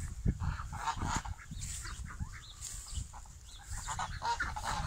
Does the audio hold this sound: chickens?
yes